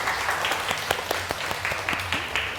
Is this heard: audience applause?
yes